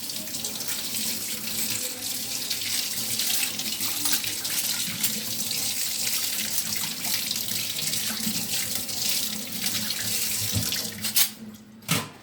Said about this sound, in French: Donc on rince.